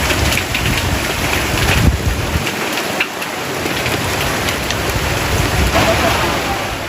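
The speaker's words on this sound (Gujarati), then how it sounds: "જોરદાર વરસાદ આવી ગયો, જોરદાર કરા પડ્યા" Heavy rain mixed with hailstones pounds down in Gujarat, a loud, dense drumming roar with scattered sharper impacts, close and continuous throughout.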